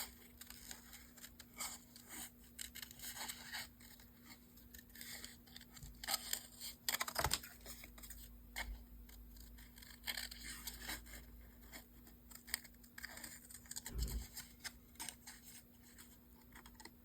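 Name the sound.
scissors cutting paper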